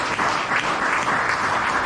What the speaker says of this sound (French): on applaudit mon Dieu pour ça